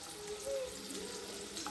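Food shallow frying in a pan gives a soft, steady sizzling hiss, faint and continuous, with no voices.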